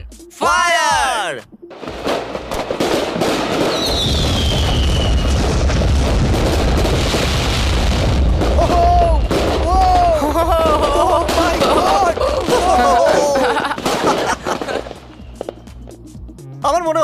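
A large fireworks cake of about 9,000 shots goes off after a countdown: a dense, loud, continuous barrage of booms and crackles with whistling streaks lasting over a dozen seconds, with people shouting and talking over it.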